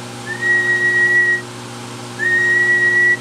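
Two long whistled notes into a microphone, held at a steady high pitch, separated by a short pause, over a low electrical hum, played through a Blackcat JB-2000 amplifier on a test bench.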